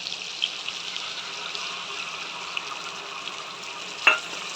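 Mustard paste going into lightly fried hilsa fish in a pan: a steady, moderate sizzle and frying hiss throughout, with a short louder splatter near the end.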